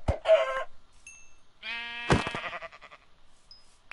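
Minecraft sheep bleating in short wavering cries, with a chicken cluck nearby and a few faint game blips, close and clear with no talking.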